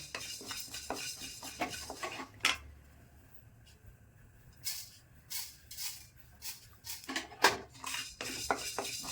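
Fenugreek seeds roasting dry in a pan for a stuffed red chilli pickle, with a spoon repeatedly scraping and stirring the seeds in quick rattling bursts, close and fairly loud, over a faint background hiss.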